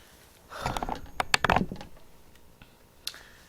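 A short burst of rough, throaty coughs, close and fairly loud, followed by quiet and one faint click.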